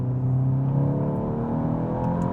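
A Stage 3 tuned VW Golf GTI MK8 engine pulling hard under acceleration from inside the car: a loud, steady, rising engine drone with a smooth whir, heard alone without talking.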